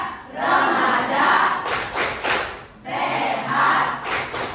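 A group of young people chants together in unison with clapping, a loud crowd sound in two surging bursts with sharp claps between, at a health session on adolescent reproductive health.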